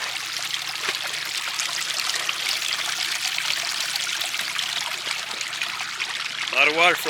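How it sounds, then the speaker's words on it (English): Water rushes and trickles steadily at close range through big double culverts set among rocks, a continuous broadband flow, with a brief voice-like sound near the end. "A lot of water flowing through them."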